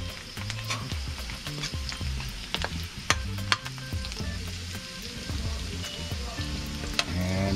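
Garlic and onion sautéing in a pan, a steady close sizzle and frying crackle with occasional clinks of stirring throughout.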